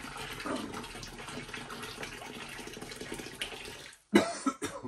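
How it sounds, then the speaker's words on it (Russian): Hot water pours steadily into a bucket with a rushing hiss, then cuts off and gives way to a few louder sloshing, knocking sounds of stirring. "Начинаем помаленьку лить водичку и размешивать"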